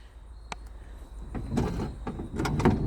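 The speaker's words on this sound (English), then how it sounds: "So the sliding door is pretty nice. So go ahead and slide it back." A car's sliding side door is pulled open and glides along its track with a few clunks and rolling rumbles, then closes by itself; moderately loud and close, with no talking.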